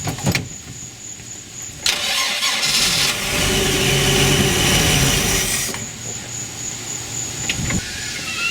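A hurricane boat engine with no fuel pump hooked up is cranked by its starter in a loud whirring run lasting several seconds, then falls back to quieter background.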